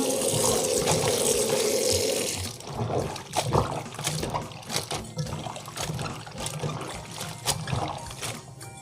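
Mustard greens being washed: running water pours steadily at first, then gives way to sloshing, splashing and squeezing of wet leaves in a basin, close by, no talking.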